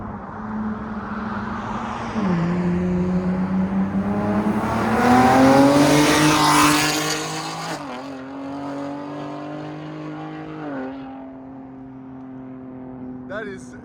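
A 2024 Ford Ranger Raptor with a 3.0L twin-turbo V6 and loop pipe exhaust drives past, its loud engine rising as it approaches and fading away as it leaves.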